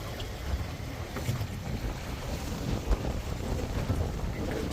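A dive boat with its captain heads out over open water toward Turtle Beach, Vijay Nagar: steady low engine rumble blended with constant wind buffeting, no voices.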